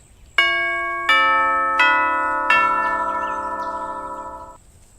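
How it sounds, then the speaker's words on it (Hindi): A doorbell rings four clear chime tones in sequence, bright and bell-like, the last one lingering and fading out into quiet. "घर की घंटी बजती है"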